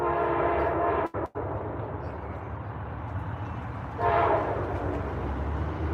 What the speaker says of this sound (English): We're gonna wait till the train goes by.